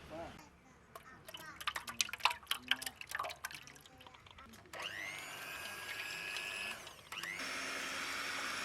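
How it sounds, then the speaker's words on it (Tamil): Scattered clicks and taps come first, then an electric blender whines up to speed and runs steadily, mixing broken eggs in a vessel into batter for a huge village-style Oreo cake. "உடைச்ச முட்டையை இப்போ இந்த பாத்திரத்தில் சேர்த்து நல்லா பிளெண்ட் பண்ணிக்க போகிறோம்"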